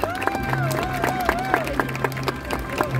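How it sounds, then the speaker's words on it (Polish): A crowd applauds and cheers a fighter at an awards ceremony: dense steady clapping with a babble of voices, moderately loud and continuous, with a tone and some chatter mixed in. "Wielkie brawa."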